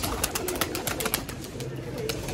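Pigeons in a rooftop flock coo and flutter in bursts of wingbeats, close and moderately loud over a noisy background.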